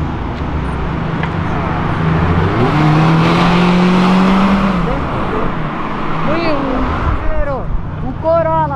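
Toyota Corolla accelerating along a city avenue, its engine rising in pitch through loud, steady revving amid passing traffic, with people talking over it.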